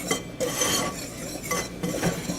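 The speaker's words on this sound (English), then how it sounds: "Now I'm going to mix them so that they're well combined." Dry ingredients for gluten-free cinnamon roll dough being mixed in a bowl, giving steady, soft scraping and light clinking of a utensil against the bowl, fairly quiet and continuous with no talking.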